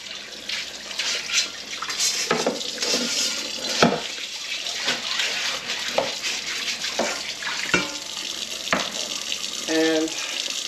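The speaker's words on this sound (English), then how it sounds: "So now I'm going to put hot water on" Hot water running from a kitchen tap as a spatula is whisked clean, a steady close rush broken by clatters and knocks of utensils against the sink and wok.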